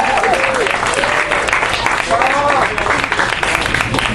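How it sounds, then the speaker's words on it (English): A comedy club crowd at a bowl finals show applauds loudly and steadily while a voice calls out over the clapping. "So give yourselves another round of applause."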